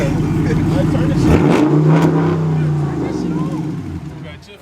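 Loud Dodge SRT Chrysler 300 V8 engine revs up and settles into a deep rumble nearby, fading slightly at the end, with people talking over it.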